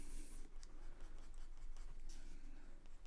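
A violet colored pencil scratches across paper in a steady, faint, close shading rhythm that continues throughout with no voices.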